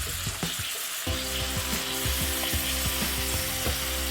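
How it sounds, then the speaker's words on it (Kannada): Ingredients sizzle in hot oil in a pan while cooking brinjal (eggplant) curry, a steady close frying crackle with repeated scraping clicks, no talk. "ಸೊ ಇಲ್ಲಿ ನೋಡಿ ಒಳ್ಳೆ ಫ್ರೈ ಆಗ್ತಾ ಇದೆ."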